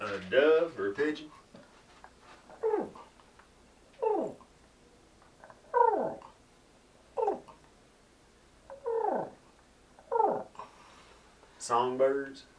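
A voice imitates a dove or pigeon with a string of low, soft cooing calls repeated about every second or so, close up in a quiet setting.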